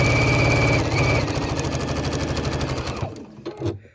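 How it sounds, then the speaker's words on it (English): Sewing machine joining quilt pinwheel seams at a quarter-inch allowance hums with a fast, even needle rattle that slows and stops near the end, followed by a few faint handling knocks, up close with no talk. "Then we're going to join the seams together."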